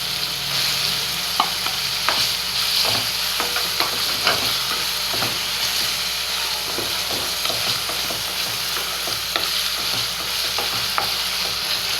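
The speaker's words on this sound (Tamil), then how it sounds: "பன்னீர் போட்டு இதுலேயே பொரிச்சிக்கலாம்." Paneer frying in a pan, a loud constant sizzle close by with frequent small ticks and pops running underneath throughout.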